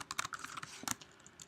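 Quick, light clicks of typing on a computer keyboard come in short bursts and then ease off, recorded close but quiet, with no talking.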